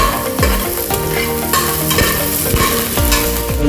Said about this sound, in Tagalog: Sigisa na rin natin yung sili.